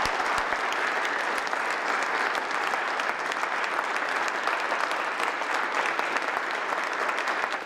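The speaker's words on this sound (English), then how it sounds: "How about a round of applause?" Senators in the West Virginia State Senate chamber applaud in a steady, dense round of clapping that holds at an even level for several seconds, with sharp individual claps standing out.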